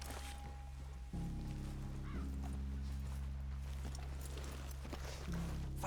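Horses walking in the video game Red Dead Redemption 2, soft hoof clops in a slow rhythm under a low droning game soundscape, fairly faint, with brief speech.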